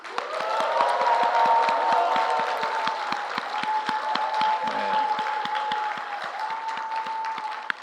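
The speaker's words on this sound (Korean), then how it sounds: "다짐하는 마음으로 인사할 때 크게 환호하시면서 박수하겠습니다." Audience applause and cheering at a church conference's joint policy presentation for a bishop election. Dense, steady clapping with cheers fills the room for several seconds, with a sustained tone running underneath.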